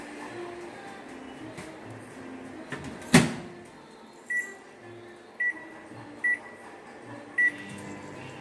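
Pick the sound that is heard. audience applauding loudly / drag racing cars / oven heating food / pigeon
oven heating food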